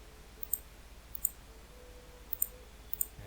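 Sharp computer mouse clicks come one or two at a time, four in all, spaced roughly a second apart against a faint steady hum, with the Control key held down and nobody speaking.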